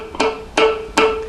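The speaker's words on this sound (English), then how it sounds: "it's those little clicks in between that are so important to the rhythm of funk" Muted dead-note clicks on a funk guitar: three sharp percussive scratches spaced evenly, each followed by a brief ringing note, played close and alone.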